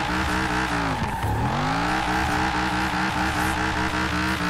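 A car drifting in the racing game Forza Horizon 4, loud sustained engine roar with long tire squeal and sliding pitch sweeps, continuous and close without talk.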